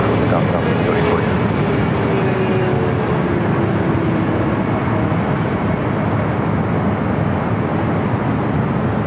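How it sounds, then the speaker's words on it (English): A Lufthansa airliner takes off at LAX with a loud, continuous jet engine roar that stays broad and steady throughout, dominating the scene. "The Lufthansa Queen also heading up here for north side at takeoff."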